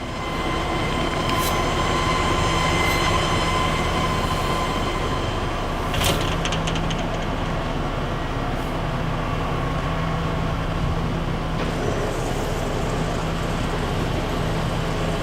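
A Kitamura HX1000i horizontal machining center runs with a loud, steady, broadband mechanical drone. It carries a faint tonal hum and a few brief clicks throughout, with no voices.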